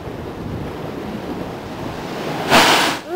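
Ocean waves crash against a sandstone coast under steady wind rumble, with one loud surging burst of spray near the end followed by a quick fall-off.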